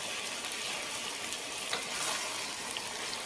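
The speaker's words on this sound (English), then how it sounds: "the idea here is to saute everything in the oil until the meat gets white coloring" Meat and skin sauteing in hot oil, a steady, dense sizzle close up that holds evenly throughout with faint crackles and no talking.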